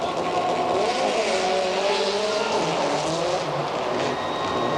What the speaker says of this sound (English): Rally car racing super special.